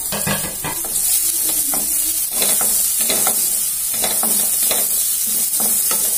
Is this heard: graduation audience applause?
no